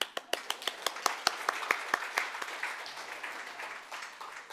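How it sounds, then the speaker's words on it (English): An audience at a keynote address for rural Australia breaks into applause, with sharp separate claps at first that swell into a dense, steady wash of clapping from a large crowd. "So if I can get you all to give yourselves a round of applause"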